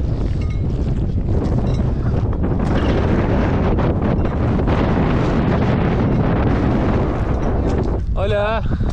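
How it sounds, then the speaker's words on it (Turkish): Strong Patagonian wind on Argentina's Ruta 40 roars and buffets the microphone continuously at high volume, with a brief voice audible through the gusts near the end. "Patagonya rüzgarı bizi mahvetti ya."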